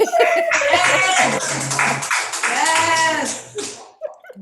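A church congregation applauding after a Sunday service: a warm burst of clapping with some laughter and voices mixed in, lasting a few seconds before fading out.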